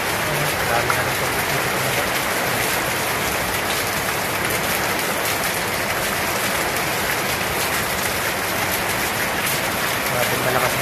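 A downpour of heavy rain keeps up a loud, continuous wash of noise from start to finish, an unbroken drumming hiss with occasional faint speech mixed underneath.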